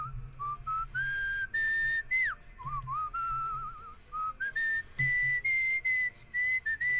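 A person whistles a wandering melody in Where the Water Tastes Like Wine, clear sustained tones rising and falling in phrases with short pauses between them over a low background hum.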